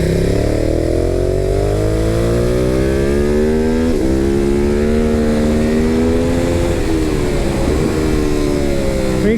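A Ducati Hypermotard 950 motorcycle accelerates hard. Its engine note stays loud and close throughout, climbing steadily with brief dips near the 4- and 7-second marks as gears shift.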